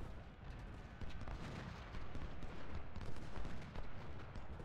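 Musket fire rolls continuously in a Civil War battle in the Ultimate General: Civil War video game, a dense rumble of overlapping distant shots with no clear pauses and no talking.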